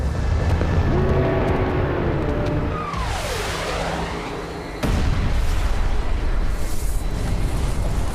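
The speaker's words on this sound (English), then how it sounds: "The asteroid hits with an explosive force of 100 trillion metric tons" A dramatized asteroid impact explosion builds as a deep, rumbling roar with descending whooshing tones, then hits with a sudden louder blast that becomes sustained booming noise.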